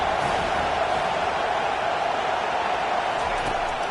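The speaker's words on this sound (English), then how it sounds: "Decibels rising as the crowd gets behind this defense on third down." A packed football stadium crowd roars steadily and loudly on third down, a dense wall of cheering and noise that holds its level throughout.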